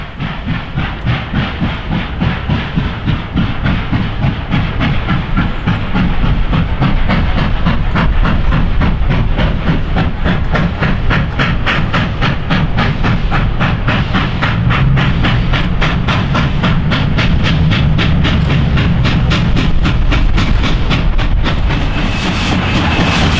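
Steam locomotive number 734 climbs grades of nearly 3% toward Frostburg, its rapid exhaust chuffs pounding steadily over a constant rumbling roar and hiss of the running train, loud and close throughout with no talk.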